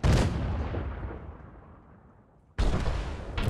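A loud gunshot from a firearm in the horror game Mundaun, its echo decaying slowly over a couple of seconds before a second sharp, loud shot cracks out near the end, with no voices.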